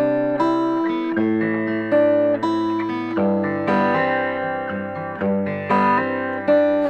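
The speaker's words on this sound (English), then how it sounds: "I've done the same thing using this plugin to an acoustic guitar." An acoustic guitar is played through the BURIER saturation plugin, its filters giving a muffled, gritty lo-fi tone to a strummed chord progression with fresh chord attacks every second or so, close and steady, without talk.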